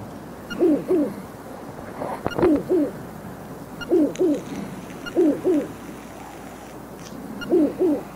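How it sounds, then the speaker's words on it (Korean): An owl in Zelda: Link's Awakening hoots in paired low notes, repeated about five times at a steady pace, clear and prominent with no talk. "잔소리꾼 부엉이도 오시고."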